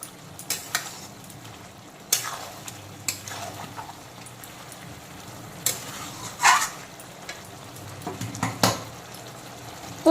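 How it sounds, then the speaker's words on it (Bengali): Country chicken curry with onion and tomato is stirred in a kadai, the spoon scraping and knocking against the metal in scattered strokes over a soft steady sizzle. "মাংসটাকে ভালো করে নাড়াচাড়া করে দেব"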